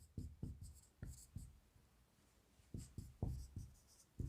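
Handwriting with a pen or chalk during a biology lesson, heard as close, quiet, clustered scratchy strokes. The strokes come in two bursts separated by a short pause, with no talking.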